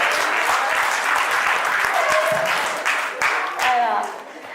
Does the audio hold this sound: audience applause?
yes